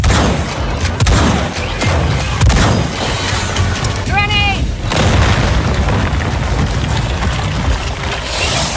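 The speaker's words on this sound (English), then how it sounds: "Fire in the hole! Grenade!" Grenade blast in the Second Extinction shooter game, a loud boom amid dense gunfire and explosions, with battle noise filling the whole stretch and a voice calling out over it.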